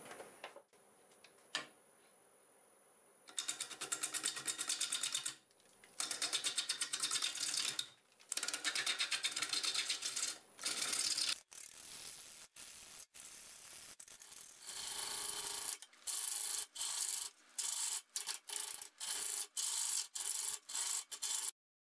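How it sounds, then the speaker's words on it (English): Pear wood that was struck by lightning is cut on a wood lathe at about 550 RPM with a 5/8 bowl gouge. Bursts of loud scraping and rasping come in uneven runs, broken by short pauses, and later turn into choppy, intermittent cuts. "5/8 bowl gouge"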